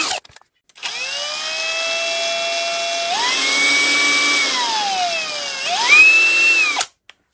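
Electric drill running a Parkside HSS 8 mm bit into metal, a loud, close, continuous whine lasting several seconds, its pitch rising and dipping as the load changes, then stopping abruptly.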